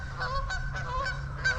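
Geese honk repeatedly in short, nasal calls by a fishing spot, several honks spaced through the moment over a steady low rumble of background noise.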